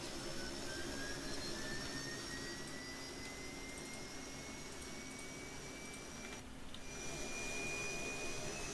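Conventional jet airplane engine in Kerbal Space Program roars as a continuous dense whoosh with a thin whine slowly rising in pitch, steady and loud throughout with a brief dip near the end.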